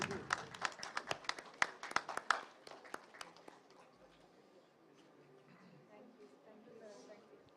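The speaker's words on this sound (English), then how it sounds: "Can we have a round of applause?" A small audience claps at a plant-based food show in New Delhi, with distinct, fairly close claps that are loud at first, then thin out and fade to scattered claps and quiet room noise.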